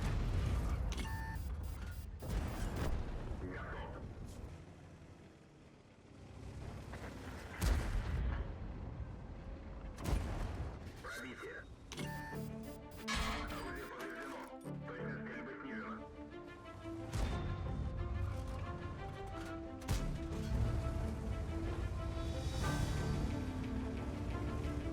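Tank cannon shots in World of Tanks, from a double-barrel tank, boom out repeatedly as loud broadband blasts among engine rumble, clanks and game effects, with no talk.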